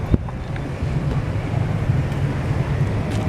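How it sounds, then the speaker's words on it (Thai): Wind blowing outdoors at dusk near a town market, a steady low rumbling buffet across the microphone that continues for the whole span, with no voices. "มีลมพัด"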